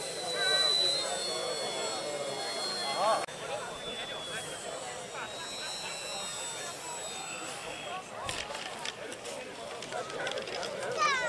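A Boeing PT-17 Stearman scale model biplane with a 1350 mm wingspan flies overhead at an airfield model meet, its engine a steady distant drone with a few bird chirps over it.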